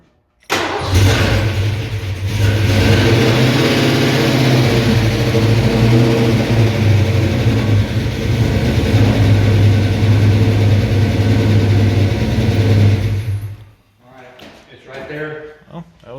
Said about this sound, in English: here goes first attempt starting it up